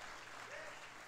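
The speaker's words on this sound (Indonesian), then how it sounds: "Berikan tepuk tangan yang paling meriah buat Tuhan" Church congregation applauding at a Christmas service, a steady broadband wash of clapping throughout with no pauses, moderately loud and filling the room.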